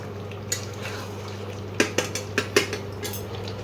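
A metal spoon knocks and scrapes in a pan as mutton curry with potatoes and spices is stir-fried, with a faint sizzle underneath and a burst of sharp clinks near the end.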